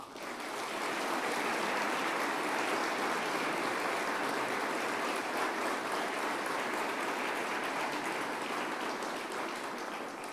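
Sustained applause from a large audience honoring Guillermo Francos during a Milei speech, a dense, steady roar of clapping that holds loud and even for about ten seconds.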